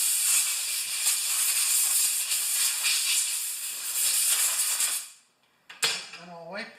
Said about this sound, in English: Let's just get the fluffer blower out again.